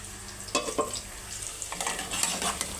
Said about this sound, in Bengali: আমি পেঁয়াজ সালার করতেছি আস্তে আস্তে পেঁয়াজটা লাল হয়ে গেছে